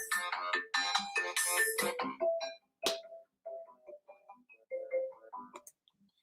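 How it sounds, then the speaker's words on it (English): A house phone rings with a series of bright, chirping electronic tones, fairly loud in a quiet room and easing off toward the end. "She will call the house phone too."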